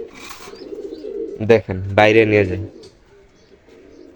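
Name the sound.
pigeon chick cooing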